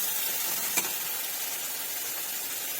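Winter vegetables sauté with turmeric, salt and red chilli powder in a pan, giving a steady, close hiss of frying that continues evenly throughout, with one brief clink of a utensil.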